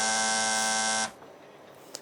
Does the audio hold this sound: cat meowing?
no